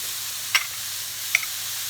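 Seafood pasta sauce with fish seasoning simmers in a pan with a steady, soft hiss, broken by two brief clicks from a utensil or pan.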